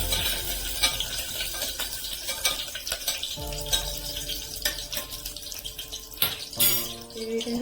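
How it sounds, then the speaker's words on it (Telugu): Bay leaves, whole garam masala and two dried chillies stirred into hot oil for tomato masala rice, with sizzling, spoon scrapes against the pan and intermittent clinks close by, loud and continuous. "ముందుగా బిర్యానీ ఆకులు, తర్వాత హోల్ గరం మసాలా, 2 ఎండుమిర్చి వేసుకొని ఈ విధంగా కలుపుకోవాలి."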